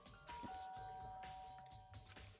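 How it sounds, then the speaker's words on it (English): Danganronpa: Trigger Happy Havoc in-game doorbell, a clear two-tone ding-dong chime that rings out and lingers over quiet background game music. "Press the doorbell."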